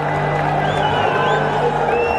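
A packed stadium crowd at a Bangladesh versus West Indies T20 cricket match roars steadily after a six, a loud, dense wall of cheering with whoops and whistles rising over it.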